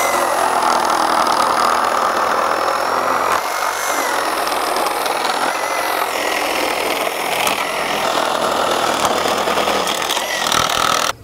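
A Milwaukee Super Sawzall reciprocating saw on a high output battery with a carbide blade cuts continuously, a loud close buzzing drone with a grinding rasp that runs steadily throughout, no talk.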